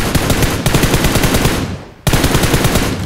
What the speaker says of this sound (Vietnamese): Mình kêu tiếng súng kìa.